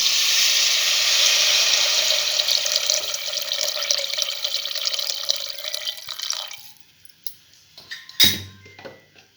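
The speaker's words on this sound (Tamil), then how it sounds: "இப்போ அந்த தண்ணியை ஊற்றிக்கலாம்." Water pours steadily into a cooking pot for paneer biryani with a bright rushing hiss for several seconds, then stops, followed by a few clinks and a short knock.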